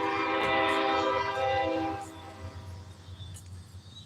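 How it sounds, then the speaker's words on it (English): A train passes outdoors at a park, its horn blaring loud for about two seconds before the rumble of rail cars rolls on more quietly and fades into the distance. "we got a train coming by we might be able to get a partial view of"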